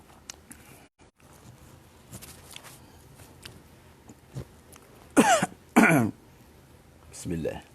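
Two loud, close coughs in quick succession, followed a moment later by a softer cough or throat-clear, with faint shuffling and indoor room noise between them and no talking.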